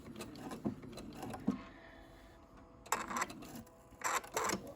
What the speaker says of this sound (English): My machine does a tie stitch.